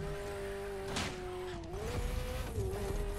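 A Liberty Performance Ferrari F40 drives in The Crew Motorfest, its engine holding a steady drone that dips and swells with throttle changes, a short sharp burst around the first second and tire noise underneath.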